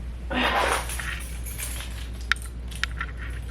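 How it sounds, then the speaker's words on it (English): Dropped keys jangle in a quick, bright metallic clatter lasting about half a second, followed by a quieter room hum and a couple of sharp small clicks. "I dropped my keys."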